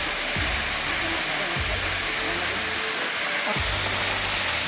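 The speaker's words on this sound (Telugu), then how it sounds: "క్షీర జలపాతం" Ksheera waterfall deep in a dense forest gives a loud, unbroken rushing roar, a steady wash of falling water with no pauses.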